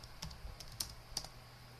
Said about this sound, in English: if I can type my password proper